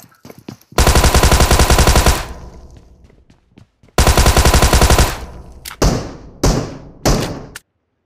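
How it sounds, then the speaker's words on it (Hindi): Automatic gunfire from a zombie-mode shooter game played on an iPad Air, two long loud rapid bursts followed by several short separate bangs, close and dominant with no talking. "मैंने फायर करा उसको"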